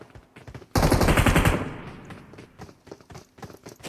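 A loud burst of rapid automatic gunfire in PUBG Mobile, then quieter scattered shots and thuds trailing away.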